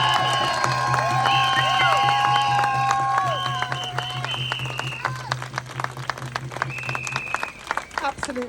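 A crowd at a protest march cheers and claps, with whistles and shouts ringing over a loud, continuous roar of applause that gradually thins toward the end.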